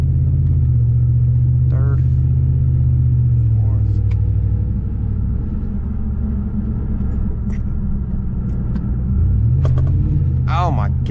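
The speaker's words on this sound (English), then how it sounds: "Oh my god, that was a hard shift." Inside a car with a newly installed automatic transmission that is shifting badly, a loud, deep engine rumble swells and settles as gears change while driving. Some faint squeaky sounds come and go.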